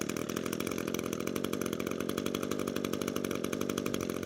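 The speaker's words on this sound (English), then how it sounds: "we'll pull the recoil 2 to 3 more times and it should fire" A string trimmer's small two-stroke engine runs steadily and loud, buzzing close by with a constant rough drone and no talk.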